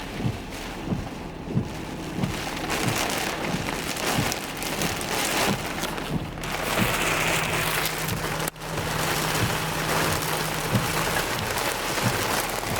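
Heavy rain pours steadily on a car while driving in town, a dense continuous wash with sharp drop taps and a low engine hum beneath, close and loud throughout.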